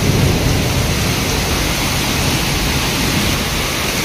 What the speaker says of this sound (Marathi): खूपच ढग गर्जना करताय.